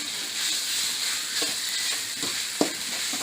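Chilli chicken dry-fried with salt in a hot pan, a dense close sizzle with a few stirring scrapes and one sharp clink near the end, no talk.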